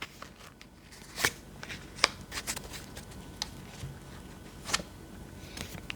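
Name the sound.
shuffling tarot cards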